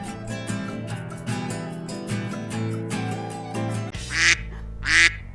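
A duck on a farm pasture gives two loud, nasal quacks near the end, following several seconds of bright background music.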